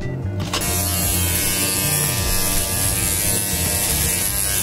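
Battery-powered hair clippers fitted with fresh batteries run alone at close range, a steady, loud electric buzz with a strong even hum that holds unbroken after a brief start.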